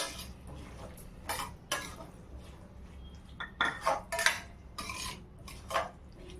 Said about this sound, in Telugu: ఇప్పుడైతే నేను కలుపుతున్నాను